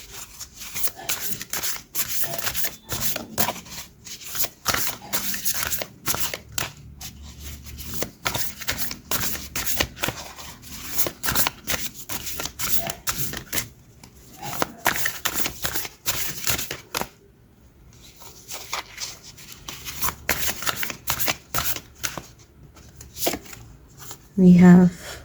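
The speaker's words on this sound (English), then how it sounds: "this is the Cosmic Pearl Oracle deck, and let's pull some cards from this one for some final messages" Cards from a Cosmic Pearl Oracle deck are shuffled repeatedly up close in dense rapid riffles and slaps with short pauses between bursts, while a person talks quietly in the background.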